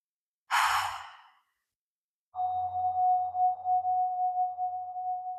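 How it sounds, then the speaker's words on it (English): A single deep breath drawn in by one person in a quiet room, a brief close rush of air, followed after a pause by a steady soft tone that continues to the end. "let's take a deep breath together"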